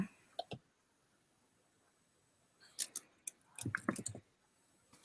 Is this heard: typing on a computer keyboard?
yes